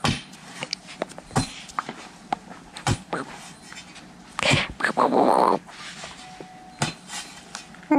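A dog snuffles and growls close by amid scattered clinks and knocks, with a louder burst of rough growling in the middle and faint voices in the background.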